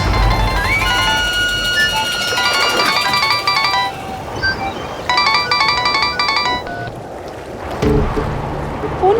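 Mobile phone ringtone of an incoming call, a bright repeating electronic melody in bursts that stops and starts again, heard over a steady background noise.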